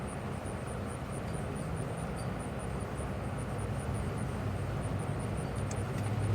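A Lasko B20540 box fan that isn't spinning right runs with a steady, broadband whooshing hum, constant and close throughout, with a faint repeating high-pitched tick riding on top.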